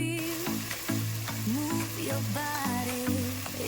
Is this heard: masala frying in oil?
yes